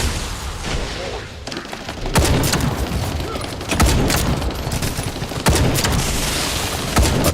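Heavy, booming gunshots from a bolt-action sniper rifle in The First Descendant, with four spaced, sharp blasts over a constant bed of game noise.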